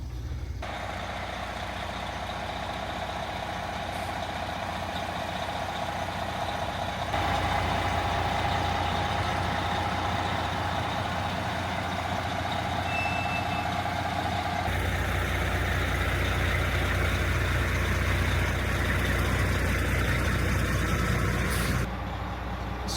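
A bus engine idles steadily while the bus is being docked, a continuous low rumble with a faint tonal whine and a short beep partway through.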